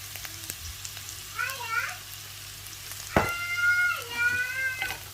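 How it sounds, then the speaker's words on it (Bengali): Spices sauté with radish in a curry pan under a constant low sizzle, with one sharp clatter partway through. High wavering cries, like a cat's meow, rise over the frying twice. "একটু ভালো করে মিশিয়ে মশলাগুলোকে কষিয়ে নিব।"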